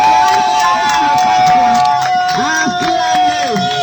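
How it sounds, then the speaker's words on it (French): A crowd at an outdoor evangelism meeting in Akodéssewa market in Lomé, Togo, cheers and shouts loudly in a sustained roar, with voices rising over a steady tone. "Acclame fortement Jésus ce soir."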